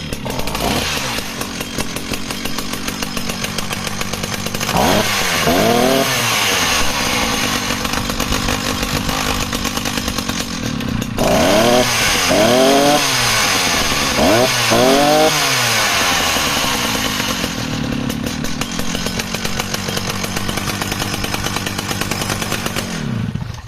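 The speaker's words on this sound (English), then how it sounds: "Let's see if she'll start for us. Oh, beautiful engine." A professional Echo CS-650EVLP chainsaw engine runs loudly and steadily at close range, idling with a raw two-stroke buzz and revving up in several rising bursts before settling back down, with no voices over it.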